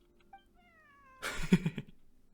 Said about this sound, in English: Wait, where did you get the cat?